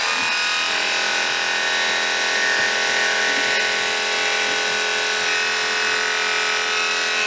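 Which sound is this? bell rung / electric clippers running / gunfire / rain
electric clippers running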